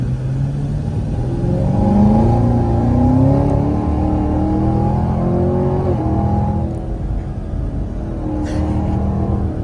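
A deep supercharged 6.2-litre V8 in a 2020 Chevrolet Camaro ZL1 rumbles and revs steadily, the pitch rising and falling as it accelerates, heard from inside the car with no talking.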